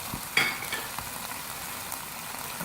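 Tomatoes sizzling in a mutton karahi pan, a steady low frying hiss with a brief stirring clatter near the start, no voices.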